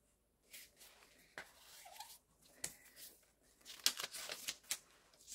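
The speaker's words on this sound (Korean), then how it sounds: "먼저 색종이를 사각형으로 접어주세요" A sheet of colored origami paper is folded into a square, giving close, quiet, intermittent crinkles, rustles and sharp creasing snaps in uneven bursts.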